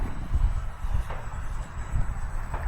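An E-flite SR-71 Blackbird RC jet with twin 40mm ducted fans runs at full throttle, giving a steady roaring rush with a thin high whine running through it, loud and close, with slight surges in the rumble.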